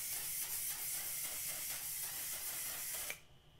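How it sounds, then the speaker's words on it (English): One Size mattifying waterproof setting spray misted in a single continuous hissing burst lasting about three seconds, close and loud, then cutting off abruptly into quiet. "this is the mattifying waterproof setting spray"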